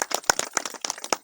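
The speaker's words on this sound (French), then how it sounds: "Ça s'applaudit" Scattered hand claps from a small audience at an outdoor foundation stone ceremony, a few uneven sharp claps spread across a brief moment rather than sustained applause.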